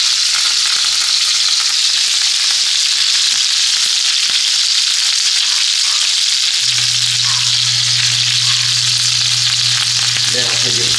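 A New York strip steak sears in a pan with butter and fresh thyme, giving a loud, steady sizzle throughout. A low continuous hum joins partway through, and there is no talking.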